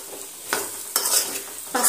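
Radish curry with turmeric and salt being stirred in a pan over a soft sizzle, with three or four scraping strokes of the spoon against the pan.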